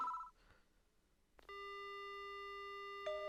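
A telephone dial tone in the Death Mark video game: a short electronic chirp and a brief quiet gap, then a steady unbroken tone that holds, close and clean, with a faint click near the end.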